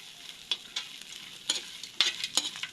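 Dried fish sautéing in a pan, a quiet background sizzle broken by several sharp spatula scrapes and clicks at irregular intervals, with no talking.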